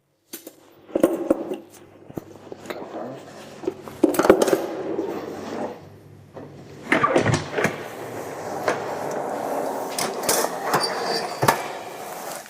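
Roasted beef bones are taken out of a kitchen oven, with clattering tray and oven-door sounds, metallic knocks and scrapes, and scattered clinks spread across the stretch.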